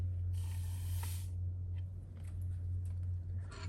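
Sugar poured into water in a glass laboratory beaker gives a soft granular hiss lasting about a second, then quieter faint rustles over a constant low hum.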